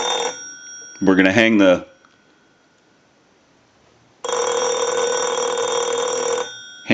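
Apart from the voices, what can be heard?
electronic telephone ringing from an analyzer ring cycle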